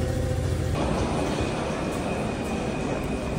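A Paris metro train rolls along with a continuous rumbling roar and a faint high whine. An earlier layer of sound cuts out partway through, leaving the loud, steady running noise and no voices.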